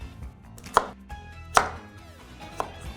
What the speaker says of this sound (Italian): e poi taglio a dadini